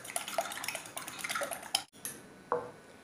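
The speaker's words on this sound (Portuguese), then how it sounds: "2 ovos inteiros e mais 2 gemas de ovos, ou seja, 4 gemas e 2 claras, que eu vou dar uma batida nesses ovos" Two whole eggs plus two extra yolks being beaten in a bowl for spaghetti carbonara, a quick run of rhythmic clinking utensil strikes against the bowl, then a pause and one last clack.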